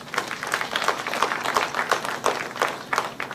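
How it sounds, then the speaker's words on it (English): An audience at a formal holiday-season event applauds a dignitary in a short round of moderately loud clapping with a slightly rhythmic, pulsing character. "I think His Excellency deserves another round of applause."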